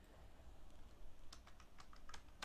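Faint, quick key presses on a computer keyboard tap out a short search entry, with a scattered run of clicks in the latter half and a slightly louder final keystroke.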